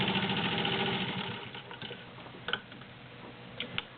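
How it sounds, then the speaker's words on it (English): A Singer 15-91 sewing machine runs through a couple layers of leather, its needle giving a fast rhythmic ticking that slows and stops, followed by a few sharp clicks and taps, close and alone. "It makes a beautiful stitch, as you can see, and it just plugs right through it too."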